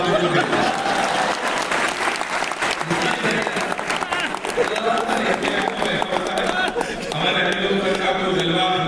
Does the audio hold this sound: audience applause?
yes